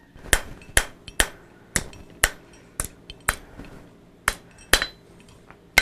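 A blacksmith hammers hot metal on an anvil to draw out a leaf stem, with about a dozen crisp, ringing metallic strikes at a steady, slightly uneven pace, close and clear with no talk.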